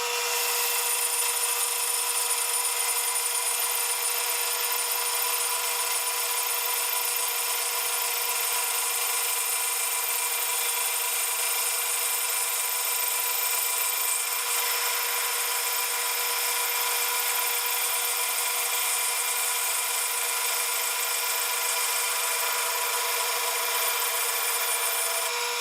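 A saw cuts a slice of thin wood veneer for marquetry with a steady, unbroken high-pitched whine that stays at a moderate level throughout.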